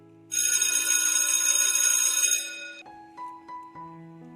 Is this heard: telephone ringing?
yes